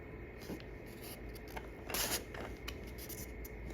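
Sheet of paper being folded and creased for origami, soft crinkles and scrapes in short bursts, a louder rustle near the middle, close and fairly quiet with no talking.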